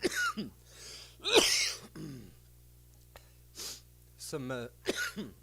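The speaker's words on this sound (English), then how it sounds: "Let me unmute so I can cough in your ears." Several short, sharp coughs and throat clearings up close, scattered with pauses and a brief voiced sound between them.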